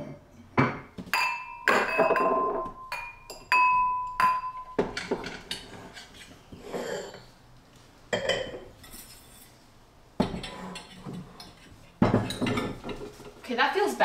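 Glass and ceramic dishes clink and knock as they are set out and rearranged on a table, with sharp ringing taps and clatters coming in irregular bursts close by, and a voice talking intermittently over them.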